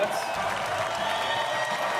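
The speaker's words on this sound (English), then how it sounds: "Round of applause for Brittany Davies, everybody." Audience applause for an actress on a comedy show, a dense, even roar of many hands clapping with some crowd noise, fairly quiet and continuous throughout.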